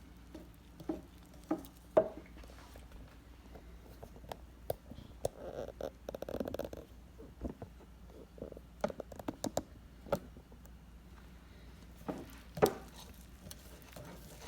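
A dough whisk stirs pizza dough with garlic paste in a bowl, giving soft irregular scraping, sticky squelching and occasional taps, quiet and close with no talking.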